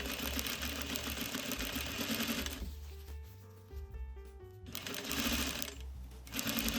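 Sewing machine stitching a bias-cut dress armhole seam through two fabric layers plus a strap, running in steady bursts with a pause in the middle, loud and close with no talk.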